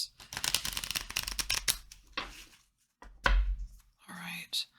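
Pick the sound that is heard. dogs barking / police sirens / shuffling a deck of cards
shuffling a deck of cards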